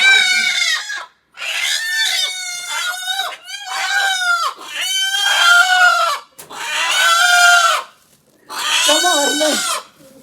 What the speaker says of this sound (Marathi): गावठी कोंबड्या आहेत मित्रांनो, गावठी कोंबड्या आणल्यात.